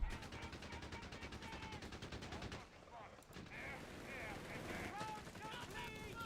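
Machine guns in Company of Heroes 3 rattle in fast, steady bursts before pausing, then battle noise continues as voices come in.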